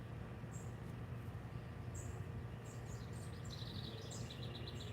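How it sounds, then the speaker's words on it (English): A catbird calls near its nest beside a garden, with repeated short chirps and mewing notes over steady outdoor background noise. "We got a catbird that has a nest right next to my garden, causing some problems, but basically right now it's just noise."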